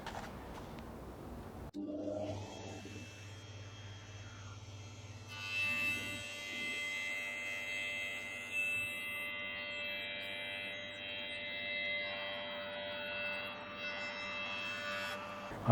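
A jointer with a helical spiral cutter head hums steadily as a board is fed through for shallow planing passes, the motor drone joined by a brighter, smoother cutting whine partway in.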